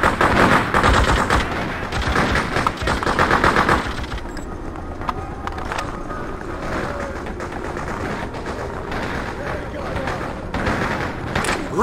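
Rapid bursts of automatic gunfire fill a firefight on Liberty Island in the video game Freedom Fighters, dense and loud for the first few seconds, then thinner and more scattered, with voices calling out over the shooting.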